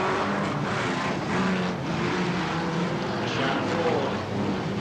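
Caravans and stock cars race around a track, their engines roaring steadily and loudly with cars surging past, while a commentator talks over the noise.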